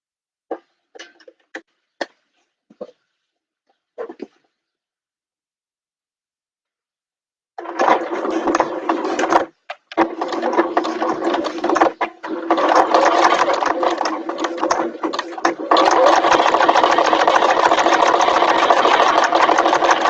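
A few soft taps at first, then a sewing machine stitching a machine bag starts up and runs loud and close in long continuous bursts, with two short pauses before a sustained final run.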